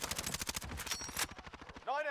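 Rapid automatic gunfire from a Call of Duty Warzone match, a dense volley of close, loud shots that breaks off abruptly near the end, with a short synthetic tone following.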